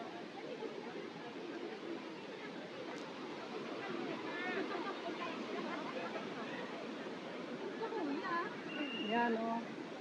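Jungle waterfall pouring as a steady broadband rush throughout, with people chatting and calling out nearby over it.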